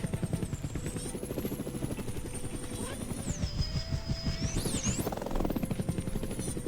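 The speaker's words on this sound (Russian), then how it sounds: "Садимся в вертолет" A video game helicopter's engine whines and its rotor chops steadily throughout, with the pitch rising and falling as it moves. The sound is continuous and moderately loud, with little else over it.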